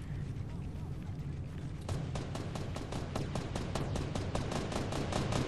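Faint, rapid automatic gunshots in the Fortnite video game begin after a short stretch of ambient noise, then continue as an evenly spaced stream of distant cracks.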